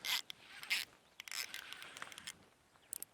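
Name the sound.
baitcasting reel drag clicker as fish takes line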